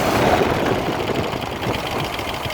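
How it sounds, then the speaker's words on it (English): Carbureted engine of a 1972 Range Rover revving and bogging slightly, a rough low rumble with uneven pulses, close by and fairly steady throughout with no speech. "I rev this carburetor, so I'm revving this fella over here."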